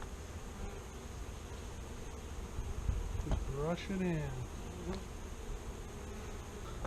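Honey bees hum in a dense, steady drone at a Flow Hive during a powdered sugar varroa treatment, while a person speaks briefly over the buzzing.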